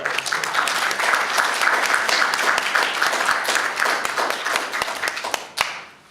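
Audience applause at the close of an academic session on new nationalisms, a steady wash of many hands clapping that ends abruptly near the finish.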